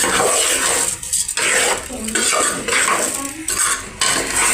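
Metal spoon scraping and clinking against a metal pan as rice for mixed vegetable masala rice is stirred, repeated irregular strokes, close and fairly loud.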